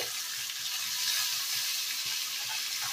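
Spices, turmeric, green chilli and chopped tomato fry with lentil dumplings in a pan for chickpea masala, a steady soft sizzle with faint stirring, close and even throughout.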